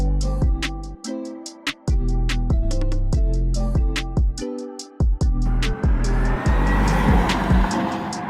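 An electric car pulls away and builds speed under strong torque, loud and close, with a steady rhythmic thumping beat and a rising whine and tire noise near the end.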